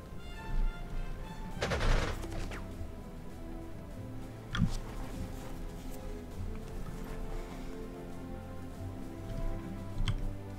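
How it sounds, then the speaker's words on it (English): Artillery fire in the WWII strategy game Panzer Corps 2 during a Spanish Civil War battle: a few booming shell impacts, the largest near two and five seconds, over steady game music with occasional ticking clicks. "Ooh, artillery."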